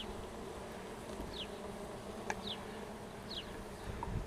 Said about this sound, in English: we got all our bees working here